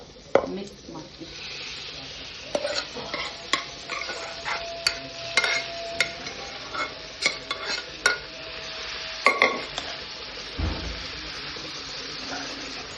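A spoon stirs lightly smashed lentils in a pan, making soft scraping strokes and small clinks that repeat steadily over a gentle frying hiss, up close and quiet.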